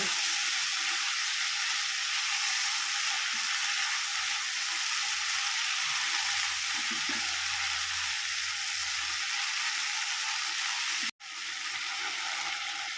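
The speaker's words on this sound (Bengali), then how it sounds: "আদা বাটা দিয়ে আবারও 2 মিনিট নাড়াচাড়া করে নেব" Ginger paste sizzles steadily in a hot pan while being stirred, a loud continuous frying hiss that cuts out briefly near the end before resuming, with no talking.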